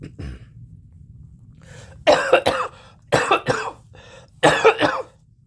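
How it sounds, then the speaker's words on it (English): A person coughs in three loud, harsh fits a second apart, close to the listener, a lingering cough after the flu. "Lingering cough after getting over the flu last week."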